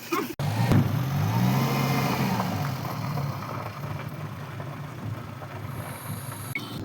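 A vehicle engine runs steadily throughout, a low continuous drone with slight rises in pitch as it revs, loud and close with no talking.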